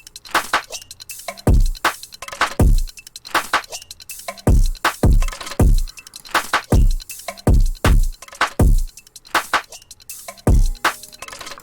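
Future bass drum pattern played on its own: punchy kicks with pitch-dropping booms, sharp snappy snares and bright hats in a steady, loud groove with no voices.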